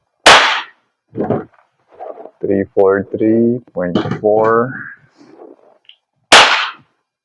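A WE Glock 17 Gen 5 airsoft gas blowback pistol fires two sharp, loud cracks, one at the start and one near the end, with someone talking between them.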